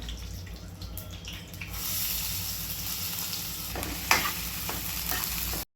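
Onion sizzles and fries in a little oil with cumin and mustard seeds, a steady close crackle with stirring and a few sharper scrapes and clinks toward the end, no voices.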